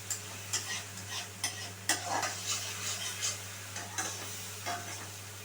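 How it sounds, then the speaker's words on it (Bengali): Spice masala for a potol (pointed gourd) and coriander dish fries in oil in a pan, giving a steady quiet sizzle punctuated by repeated rhythmic scrapes and clinks of a stirring spoon over a low background hum. "আরও কিছুক্ষণ ধরে আমাদের কষাতে হবে"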